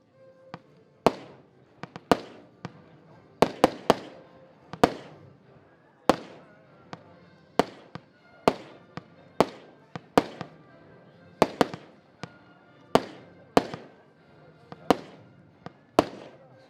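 A Golden Bridge 75-shot firework battery fires outdoors, sharp loud bangs popping off in an uneven rapid series, some in quick doubles, each followed by crackling decay, with no talking.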